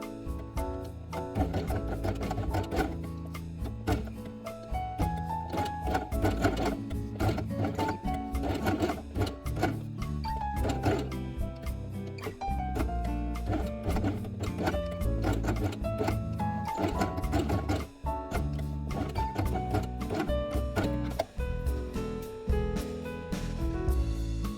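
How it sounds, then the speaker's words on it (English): A sewing machine stitches black felt circles along their edges onto a fabric quiet book page, running continuously at a steady rate for the whole stretch alongside a dense, busy background, with no talk. "Then place black circles in these places and sew them along the edge."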